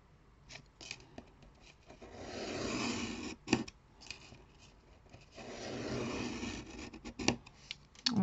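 Soft, close rubbing and scraping as a paper fold is creased for a diamond-shaped card, coming in quiet swells with a few sharp taps between them.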